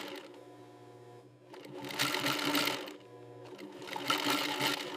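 An industrial sewing machine stitches crocodile leather in bursts, its rapid mechanical chatter starting and stopping in two runs separated by a brief lull, close and fairly quiet, with no voices.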